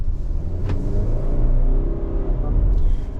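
A 2022 Subaru Crosstrek Limited engine rumbles steadily at low pitch as it pulls away and drives slowly out of a parking lot, with a brief higher hiss partway through.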